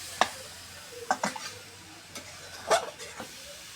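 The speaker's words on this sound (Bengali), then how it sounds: "দেখেন ভাজা ভাজা করে কষে নিচ্ছি।" Beef cooked down with coconut fries in a pan as a spatula stirs it: a faint, low sizzle broken by several sharp scraping strokes, heard alone with no talk.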